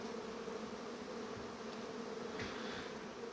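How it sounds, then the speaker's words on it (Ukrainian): Honeybees humming on one of the last warm days of the year, a steady, continuous buzz that stays even throughout, with no voices. "будемо згадувати оці останні моменти приємного гулу, бджіл"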